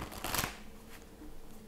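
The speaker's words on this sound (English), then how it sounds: "Just giving these cards a really good shuffle here." Tarot cards are shuffled in a quick, close papery riffle, loudest in a short burst near the start before fading into softer rustling.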